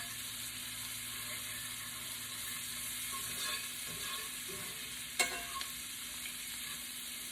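Seafood fries and is stirred around in a skillet, a faint steady sizzle with soft scraping, then a sharp utensil tap near the end, with no talking.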